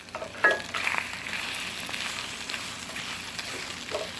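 Eggs frying in hot oil in a pan for Tex-Mex migas give a steady, close sizzle with a brief sharper crackle near the start, alone with no talk.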